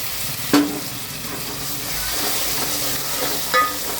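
Tomato puree fries and sizzles with golden-browned onions for a Kolhapuri fish curry, a steady close hiss with a couple of sharp spoon or pan knocks while stirring.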